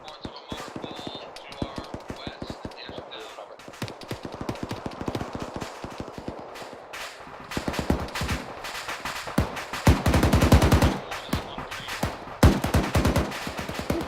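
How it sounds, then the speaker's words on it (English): A .50 caliber machine gun in a military video game fires dense bursts of sharp reports, with other gunfire mixed in, growing louder and heavier toward the end, while voices talk underneath. "This 50 cal gunner's fucking shit up."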